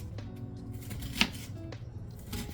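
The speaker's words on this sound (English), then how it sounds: "That's how I cut onions" A knife chopping onions by hand, a few soft irregular knocks against a board, with one sharper strike standing out amid low background rumble.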